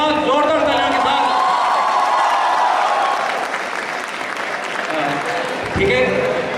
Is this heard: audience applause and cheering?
yes